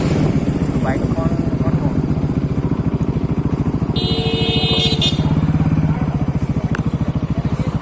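A Yamaha MT-15 motorcycle engine runs close by with a fast, even throbbing pulse that holds steady throughout, while a voice is faintly heard over it.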